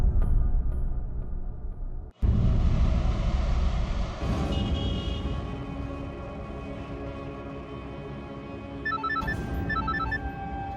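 A mobile phone belonging to James rings indoors, a steady electronic ringtone running through the whole stretch at moderate loudness, with chirpy repeating beeps near the end.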